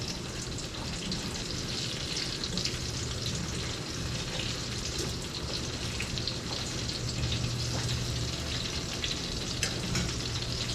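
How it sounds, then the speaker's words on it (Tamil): Chicken parmesan fries in olive oil with an even, constant crackling sizzle that stays steady and close from start to finish. "ஆலிவ் ஆயிலில் போட்டு நல்லா ஃப்ரை பண்ணி எடுத்து வச்சு"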